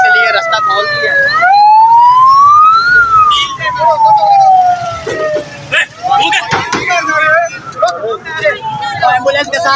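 A loud, close ambulance siren wails up and down continuously during a lawyers' protest at GPO Chowk, Lahore, with traffic noise and shouting voices around it.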